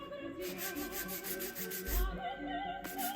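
Hand sanding a polyurethane varnish coat with 400 grit sandpaper makes soft, rhythmic rubbing strokes that repeat steadily at close range in a quiet setting.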